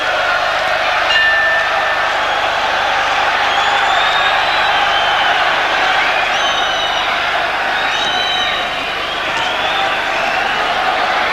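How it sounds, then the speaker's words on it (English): A packed Belfast boxing crowd at a featherweight bout roaring a sustained victory cheer, a dense, loud, continuous wall of voices with rising chant-like swells throughout. "this Belfast crowd, this amazing crowd, beginning to set up the victory cheer"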